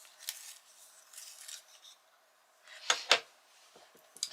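A peacock blue or bondi blue colored pencil is sharpened with short, dry scraping strokes, faint at first, then a louder pair of close rasps and a few light ticks.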